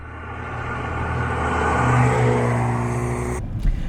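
A BMW M235i Gran Coupe engine hums on the move, building in a steady smooth rise to a peak and then easing off, heard from inside the car with no talking.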